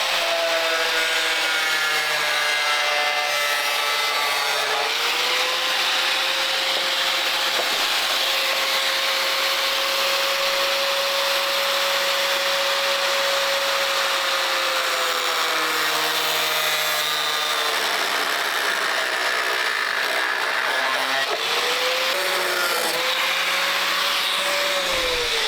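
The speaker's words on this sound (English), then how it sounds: "we're using a little angle grinder with a cutoff wheel" Small angle grinder with a cutoff wheel cutting along a marked line on a Toyota Highlander during a tow hitch install, a loud continuous high-pitched grinding whine that shifts pitch as the wheel bites, steady and close with no talk.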